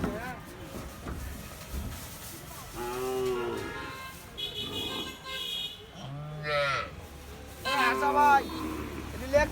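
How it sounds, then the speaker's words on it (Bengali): Cows and calves, nine animals loaded onto a vehicle at a Gazipur farm, low a few times at close range, rising drawn-out calls spaced across the stretch over a busy background rumble. "9টি গাভী বাছুর"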